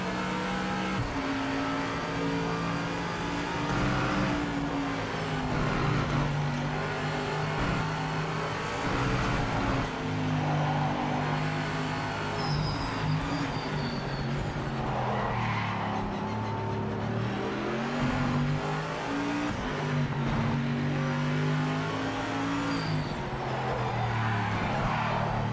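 GT3 race car engine in the Project Motor Racing video game, a continuous loud engine drone that rises and falls through gear changes and revs with occasional tyre squeal.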